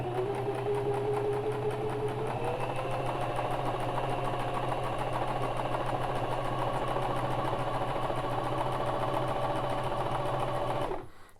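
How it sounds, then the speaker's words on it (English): A bernette Sew&go 1 sewing machine stitches in reverse, a loud continuous mechanical whir with a rapid even needle rhythm that rises slightly in pitch early on and stops abruptly at the end. "now it's going to stitch backwards"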